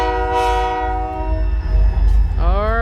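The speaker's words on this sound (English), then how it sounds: "fast freight coming through with the sand train in the foreground" Reading & Northern freight train rushing past at close range with a loud, sustained multi-tone horn blast, the horn bending in pitch near the end as the train passes, over steady heavy rumble of the cars.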